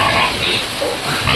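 Pigs being fed organic feed on a farm, loud close grunts and snorts mixed with rough broadband noise and a faint voice, fairly continuous throughout.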